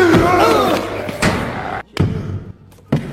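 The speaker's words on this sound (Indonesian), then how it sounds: "Kyle dengan cepat menepuk-nepuk dinding selnya" A hand slaps against a prison cell wall in sharp, separated thuds with brief pauses between them, loud and close, following a stretch of crowded, noisy voices at the start.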